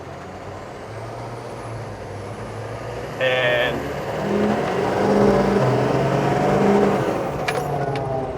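A 1994 H1 Hummer converted to a Duramax diesel drives along, a loud, steady engine drone heard from inside, swelling as it pulls away after a short clatter, with a voice speaking briefly.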